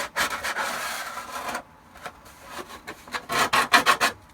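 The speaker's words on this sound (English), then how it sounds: "I'm using the rough sandpaper on it to get it started. Just taking off some material and leaving a really nice edge there." Rough sandpaper rubbed along the edge of a plastic Shadow Trooper armour piece, giving close, raspy back-and-forth strokes: one long continuous stretch of scraping, then a short pause and a run of quicker, sharper rubs.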